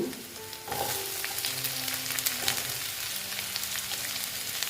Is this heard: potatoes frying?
yes